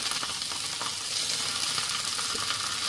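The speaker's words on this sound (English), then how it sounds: "We are going to griddle our mackerel for about 3 or 4 minutes" Mackerel fillets sizzling and frying on a hot griddle, a steady, close, dense hiss with faint crackles running throughout, no talking.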